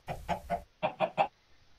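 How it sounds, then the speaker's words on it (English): Chickens in the video game Minecraft give six short, evenly spaced clucks, close and clear, in two groups of three separated by a brief pause. "Wow, we have chickens. A lot of chickens."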